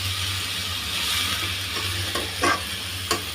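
Leafy greens fry in a pan as they are flipped over, a steady close sizzle with a few brief stirring clatters near the end and no one talking.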